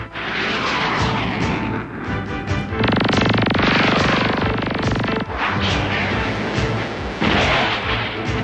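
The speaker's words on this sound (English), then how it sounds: "The slicer cannons! Drone, slice up Goliath controls!" Slicer cannons fire in a 1986 animated action cartoon, a loud sustained burst of rapid mechanical gunfire over a roaring engine and explosive rumble, with heavy noisy action sound throughout.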